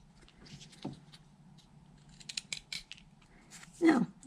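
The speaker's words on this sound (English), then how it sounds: "So we just go in and redo the stop cut." A whittling knife cuts into wood while a leaf pendant is carved, producing a few short scraping snicks and small taps, close and quiet with no talk.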